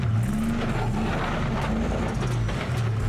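Toyota Land Cruiser 76 grinding off-road in 4-high, its engine a steady, loud low drone with slight pitch swells as it works over rough ground, no voices.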